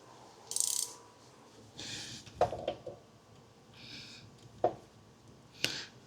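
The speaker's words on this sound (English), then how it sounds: "a tiny ratchet" A tiny ratchet is turned during belt and pulley replacement on a BMW E60 with an N54 engine, giving several short buzzy ratcheting bursts up close, mixed with scattered metallic knocks and clicks and no talking.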